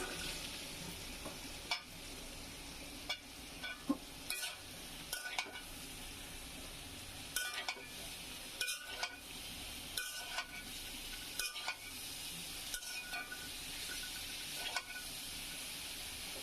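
Taro stolons fry in a pan with dried fish, a low continuous sizzle broken by intermittent scrapes and clicks of stirring.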